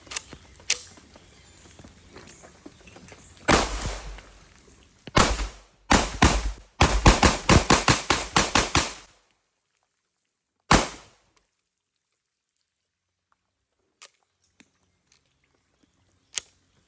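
Repaired Tec-9 pistol test-fired with live rounds: one early shot, then a lone report, two quick shots, and a rapid string of about ten loud, sharp reports, followed by a single later shot and faint clicks in quiet.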